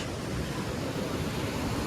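Fast-flowing river water near Kullu–Manali, heard as a steady, loud, broadband rushing roar that holds constant throughout, with no voices.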